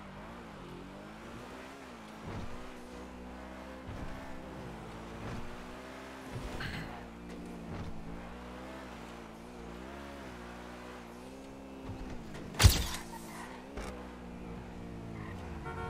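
A car engine in the video game GTA drones steadily, rising and falling in pitch as it revs, with a sharp bang near the end.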